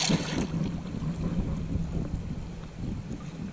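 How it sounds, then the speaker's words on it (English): Wind buffets a microphone in heavy, rumbling gusts, a loud low roar that surges and fades across the whole stretch. "It's pretty windy right here."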